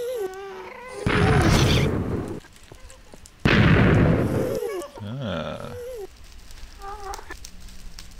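Explosive gunfire and blasts in a Minecraft-style video game base, two loud noisy bursts separated by quieter game sounds with tonal chirps and effects.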